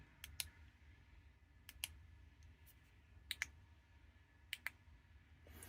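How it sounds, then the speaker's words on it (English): Rear tail button on an IMALENT BL50 UV flashlight, clicked close up in pairs of crisp, sharp clicks spaced a second or so apart over a quiet background, with no voice. "These buttons are very, satisfyingly clicky, very reversed. So you can hear that."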